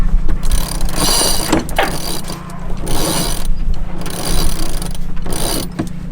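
Genoa sail being unfurled on a sailing boat underway off Britain, heard as a steady run of ratcheting winch clicks and pulley squeaks over rushing wind and water.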